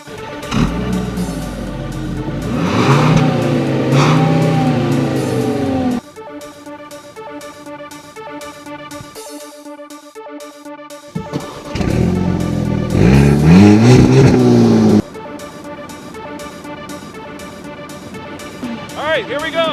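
A 2013 Volkswagen Beetle and an Eos convertible accelerate from a stop on a snowy road, their engines revving loudly and rising in pitch in bursts, with people talking over and between the runs.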